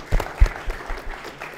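A class at Upperhill secondary school claps for a student after a Swahili literature presentation, the claps light and scattered at moderate distance rather than a full roar.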